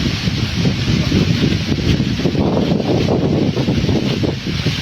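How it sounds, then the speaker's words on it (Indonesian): Strong wind gusting outdoors around a stand of bamboo on a rain-slick path, a steady, loud, rushing roar that fills the whole stretch without letup. "karena anginnya besar jadi terbawa angin sampai jatuh-jatuh"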